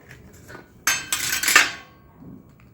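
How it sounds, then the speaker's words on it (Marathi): Green chillies are slit with a knife in a home kitchen, a brief cluster of sharp clinking and scraping knocks against a plate or board, followed by quiet. "आता हे सगळे मी चिरून घेते"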